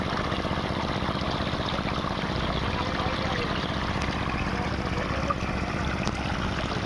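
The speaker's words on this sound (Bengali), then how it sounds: "এই যে জল বেরিয়ে গেল এদিকে।" Water gushes steadily from the outlet of a water pump machine in a village setting, a dense, constant rushing splash heard close and loud throughout, with no voices.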